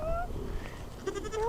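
A white sheep bleats twice at close range, a short wavering cry followed by a rising one, over a low outdoor background with no talking.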